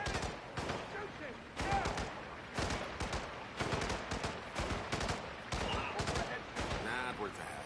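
Rapid bursts of gunfire from the video game Hitman, several clustered volleys in quick succession, loud and close with no talk over them.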